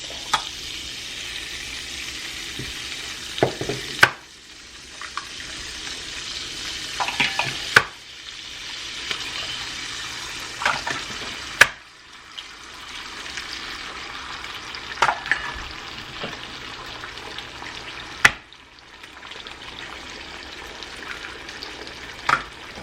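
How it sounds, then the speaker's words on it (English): Eggs frying in a pan on a home stove, a steady close sizzle punctuated by several sharp scrapes and clicks of a utensil stirring and tapping the pan. "And I'm going to fry up some eggs."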